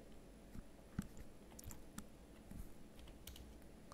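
Faint, soft keystrokes tap unevenly on a computer keyboard in a quiet room as a verification code is typed in.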